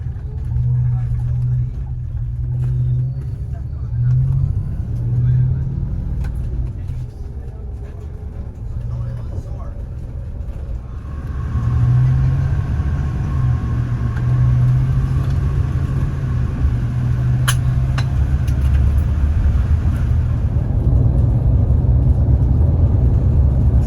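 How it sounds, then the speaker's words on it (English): Car driving through Dublin city centre, a steady low road rumble and engine drone throughout that grows slightly louder and fuller partway through, with faint background noises over it. "driving through the Dublin centre already"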